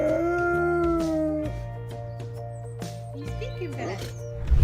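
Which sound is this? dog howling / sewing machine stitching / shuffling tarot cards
dog howling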